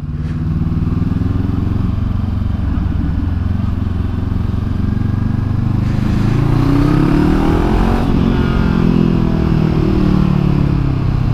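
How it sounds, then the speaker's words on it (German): A motorcycle engine runs loud and close, droning steadily before its pitch climbs as it is revved up to high rpm, with an odd strained, rattly tone while it winds up. "Die Maschine macht irgendwie immer ein komisches Geräusch, wenn man die hochdreht."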